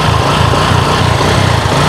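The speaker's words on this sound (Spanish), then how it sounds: "la moto está prendida en este momento" A Bajaj Boxer 150 motorcycle engine runs steadily close by, a loud, even, buzzing putter with no pauses and no talking.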